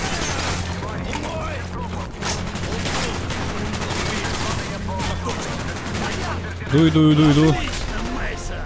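Sustained light machine gun fire in the Call of Duty Black Ops video game, dense rapid bursts continuing throughout with loud game battle noise, while someone talks briefly over it.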